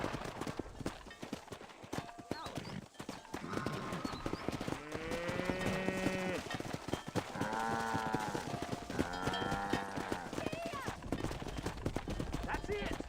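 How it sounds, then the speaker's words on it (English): In the video game Red Dead Redemption, rhythmic clip-clop of horse hooves runs throughout, with people talking and calling out over it and a sustained tonal sound in the middle. "Control that horse, will ya?"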